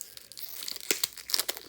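A comic book's packaging tab being torn open by hand, giving crisp crinkling, tearing rips that come in a few quick bursts up close.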